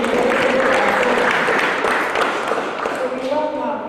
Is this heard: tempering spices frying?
no